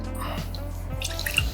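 Coffee rum, about two ounces, poured into a hot chocolate drink: a soft, brief liquid trickle and drip over a low steady hum.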